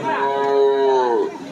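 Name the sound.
bull mooing at cattle market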